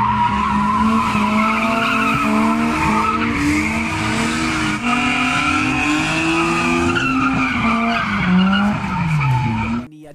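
BMW cars drift at a large BMW car festival, their tires squealing loudly and continuously for about ten seconds over revving engines, with wavering squeals rising and falling.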